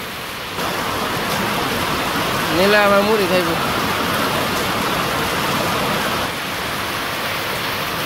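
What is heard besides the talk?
rain falling in a Bangladeshi village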